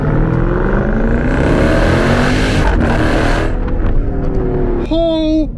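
Supercharged V8 Jeep Trackhawk in a hard full-throttle pull, a loud continuous roar with rising revs and a brief shift dip, heard from inside the cabin; a voice speaks near the end.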